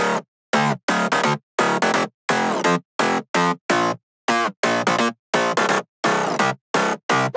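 Layered synthesizer mid bass for a future house drop, bright and buzzy, chopped into short stabs and rapid bursts with sharp gaps in a bouncy syncopated rhythm, loud and up front with no voices.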